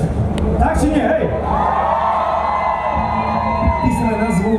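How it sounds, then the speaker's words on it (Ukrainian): An open-air rock festival crowd at MRLP City Fest roars and cheers loudly and continuously, with whoops and shouts rising over a sustained wash of noise and a band's music underneath. "Під ваші шалені оплески!"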